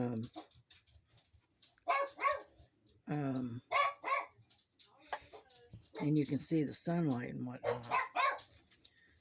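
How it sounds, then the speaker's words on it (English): Dogs bark repeatedly outside, in short bursts from a little distance, while a person talks nearby over them. "You'll have to excuse the dogs."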